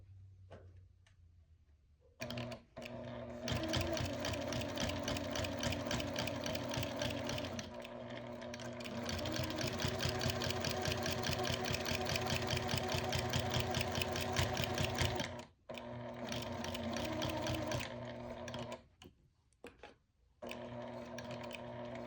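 A sewing machine set to about a 3 mm stitch length runs fast and steady along the binding of a Halloween quilted mug rug, pausing once briefly before starting up again, close and without talk.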